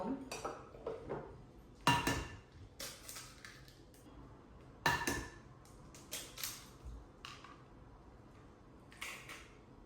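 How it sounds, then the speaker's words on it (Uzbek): Vegetable oil and eggs are stirred together in a bowl, heard as a run of soft clinks and scrapes of a utensil against the dish, with a few louder knocks spread through the stretch and a quiet background. "endi buni yaxshilab aralashtirib olamiz"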